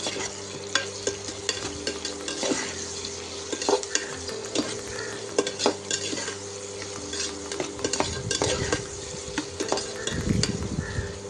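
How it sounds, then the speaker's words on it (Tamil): Onions frying for egg biryani with a spoon stirred lightly through the pan, a soft continuous sizzle broken by scattered scrapes and metal taps on the pan, close by and unvoiced. "வதங்க தொட்டிக்கு அப்படியே லைட்டாக கிண்டிகிட்டே இருக்க வேண்டியதான்"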